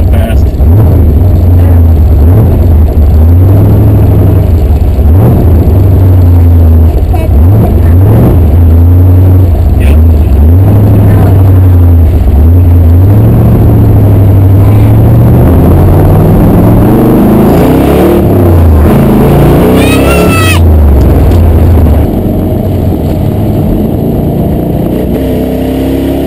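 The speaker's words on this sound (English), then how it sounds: "It goes down the road so nice and it runs really good." A 1967 Chevrolet Corvette roadster drives along the road, its engine note rising and falling steadily with repeated revving and shifting under constant loud road and wind noise close to the car.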